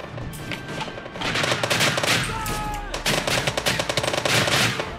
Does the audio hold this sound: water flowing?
no